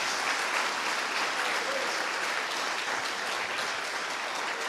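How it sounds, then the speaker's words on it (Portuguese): A church congregation at a family worship service claps loudly and continuously for several seconds, a dense, even roar of many hands with no voices on top. "Vamos aplaudir o nosso Deus bem forte"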